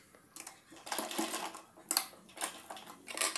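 A sewing machine stitching a petticoat waistband, with quiet bursts of rapid mechanical whirring broken by short pauses, close by and fairly faint, with no talk.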